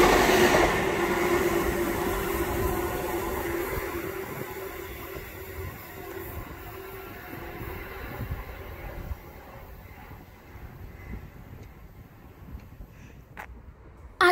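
A diverted CrossCountry Class 350 electric train passes through Duddeston station, its steady rumble and rail noise loud at first and then gradually fading as it moves away.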